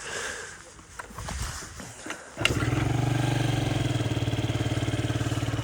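A Yamaha Jog SA36J scooter engine cranks and catches after a couple of seconds of handling noise, then runs at a steady, close putter-like idle.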